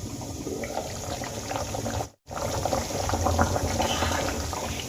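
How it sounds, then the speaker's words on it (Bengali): Fish curry with green tomato and potato bubbling steadily in an open pot, a continuous close simmering burble with a brief dropout midway. "এখানে দেখো ঝোল কিন্তু খুব সুন্দর ফুটে গেছে"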